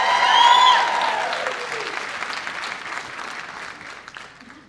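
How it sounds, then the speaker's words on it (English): A theater awards audience bursts into applause after a voice finishes reading nominees; the clapping swells quickly, then gradually thins and fades over several seconds. "Well, Donna won the applause, so."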